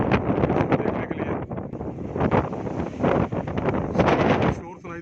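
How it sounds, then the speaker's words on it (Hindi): Strong wind gusts with rain buffet the microphone outdoors near an old Hindu temple in Rasool Nagar, a loud, continuous broadband roar surging and easing throughout with no clear pauses. "शोर सुनाई दे रहा हो बारिश का, तेज़ हवा का।"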